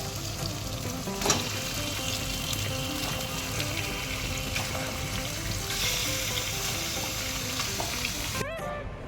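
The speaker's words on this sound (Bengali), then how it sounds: "মাসি লাস্ট 15 মিনিট ধরে একটা পেঁয়াজ কষেই যাচ্ছে।" Onion sautés in a pan with a loud, dense, continuous sizzle and occasional stirring scrapes, close and steady throughout, with a brief clatter near the end.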